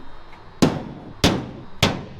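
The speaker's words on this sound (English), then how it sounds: "then we're going to go through with the punch, get our holes marked" Three sharp metallic hammer strikes on a punch marking holes on a rock crawler build, evenly spaced about half a second apart, each ringing briefly in a quiet shop.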